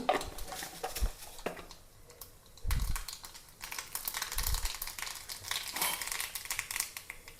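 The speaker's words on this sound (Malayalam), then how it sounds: "അല്പം കടുക് പൊട്ടിക്കാം" Mustard seeds crackle and pop in hot oil in a pan, scattered sharp snaps and crinkly bursts arriving irregularly at close range with no talking.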